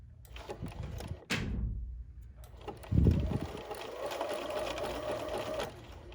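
A BERNINA sewing machine runs a satin stitch in a steady, close mechanical whir, stopping briefly and then starting again as the fabric is turned, with a short thump partway through.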